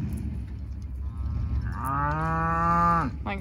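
Cattle in a field with calves nearby: one close, loud drawn-out moo rises and holds for over a second before cutting off, over a low outdoor rumble.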